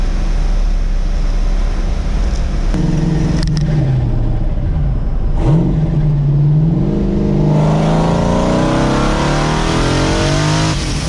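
An LS-engined car fitted with a journal bearing turbo drives along, its engine note loud and close, droning steadily, then rising and falling through a rev change before climbing into a stronger, rougher pull near the end.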